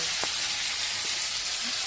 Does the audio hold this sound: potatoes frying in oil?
yes